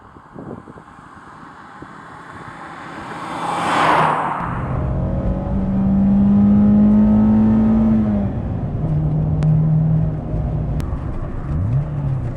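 A 2002 Renault Clio Sport hot hatch accelerating hard, its engine note climbing through the revs, easing briefly and rising again as it pulls through the gears, loud and close with no talking.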